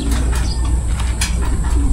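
Racing pigeons arrive at a training toss in Pagsanjan, Laguna, cooing softly amid steady outdoor background noise and a few faint chirps.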